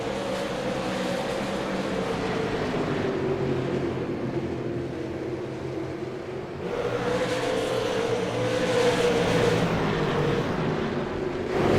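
Race cars roar around Oxford Plains Speedway in the video game iRacing, a continuous droning engine pack with pitch sweeping up and down as the cars pass, steady and moderately loud.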